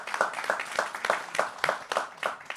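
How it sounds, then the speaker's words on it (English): Brief round of audience applause for three panel gentlemen at a Hong Kong maritime shipping forum, a few pulsing waves of moderate clapping from a small seated crowd, no talk over it. "So a round of applause for the 3 gentlemen here."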